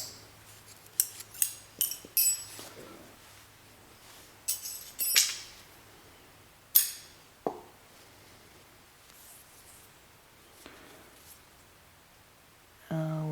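Scissors snip crochet yarn while a hat is being finished, a series of quiet, sharp cuts and clicks spaced across a mostly silent stretch.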